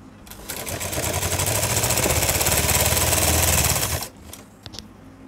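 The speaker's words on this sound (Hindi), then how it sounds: "और अब हम यहाँ इसके ऊपर सिलाई लगाएंगे।" A sewing machine stitches lace onto a blouse, a loud, fast continuous mechanical whir that runs steadily for about four seconds and then stops, leaving faint clicks of handling.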